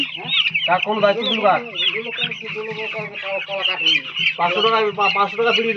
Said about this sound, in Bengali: দেখুন এই যে মুরগি, এটা মুরগি